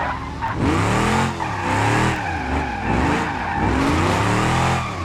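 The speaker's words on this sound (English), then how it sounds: "Hit another pole, but also messed up the car a little bit." A car in a video game skids and slides into a pole, a loud continuous tire squeal with sweeping, wavering pitch and engine whine running throughout without a break.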